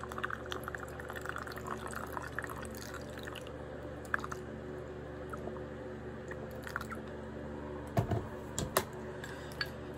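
Cleaning liquid pours into a container while white Vans sneakers are being cleaned, a faint, continuous trickling under soft background noise, with a few light clicks and taps near the end.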